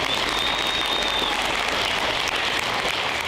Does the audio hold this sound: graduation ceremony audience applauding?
yes